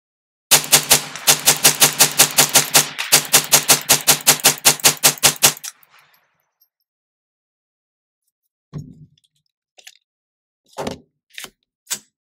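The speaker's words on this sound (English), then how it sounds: "let's go do a mag dump and see how well it runs with this type of ammo." A Faxon FX22 rifle with a Magpul 16-inch fluted bull barrel fires Federal ammunition in a rapid mag dump: a loud, close string of about thirty sharp cracks in quick rhythm with one brief pause, followed by silence and a few faint clicks and handling noises.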